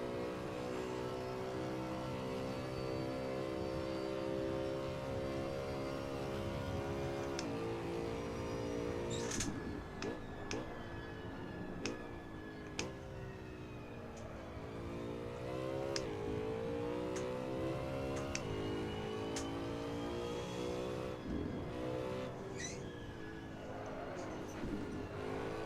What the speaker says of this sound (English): Not sure about that engine sound though.